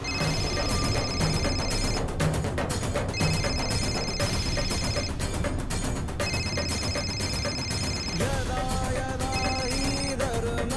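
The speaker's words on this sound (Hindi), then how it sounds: "लगता है इसकी बेटी का फोन है।" A telephone bell rings in repeated bursts with brief pauses between them, loud and steady for about eight seconds, over background music that later shifts to a tonal melody.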